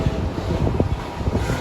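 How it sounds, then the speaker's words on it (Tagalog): Strong wind buffets the microphone at an outdoor pigeon loft, a loud continuous low rumble with gusty surges through the short stretch. "Ayun, malakas na yung hangin."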